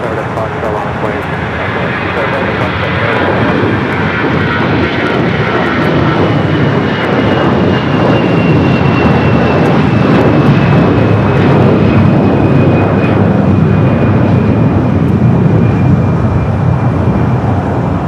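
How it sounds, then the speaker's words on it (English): An Airbus A321 airliner at LAX, bound for Chicago O'Hare, produces a loud, sustained jet engine roar that swells slightly over time, with a thin whine gliding gradually downward across it. "Flight heading to Chicago O'Hare. A321 up next."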